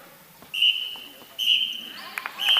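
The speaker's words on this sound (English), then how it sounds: "that sound you hear, ladies and gentlemen, is the final whistle" A referee's final whistle at an EPFA Champions Cup match between the Aarhus Rolling Devils and Les Egles de Vevey, with three shrill blasts, the first two long, under a commentator's voice and faint bouncing thuds.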